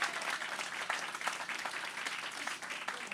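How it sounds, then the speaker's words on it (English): A crowd at an affordable housing groundbreaking applauds a woman being introduced, a brief, even wash of many hands clapping at a distance, fairly faint. "How about a round of applause for Nadia"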